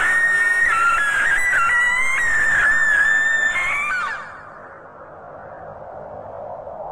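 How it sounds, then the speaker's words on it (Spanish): A vampire's shrill, high-pitched shriek in a radio drama, staked through the heart, wavering loudly for about four seconds over a dark music bed before cutting off and leaving the low background alone. "una afilada estaca clavada en el corazón del vampiro, que en aquel momento profirió en agudo chillido."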